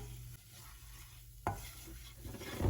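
Flour cooks in a pan with a little fat while a spoon scrapes and stirs it, giving a soft, close sizzle with occasional scraping knocks and no talk.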